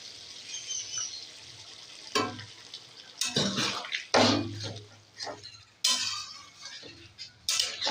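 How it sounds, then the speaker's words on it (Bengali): Warm water is poured into a pot of simmering chicken and potatoes, with bursts of sizzling, splashing and stirring clinks coming in uneven waves at close range. "উষ্ণ গরম জল দিয়ে দেবো"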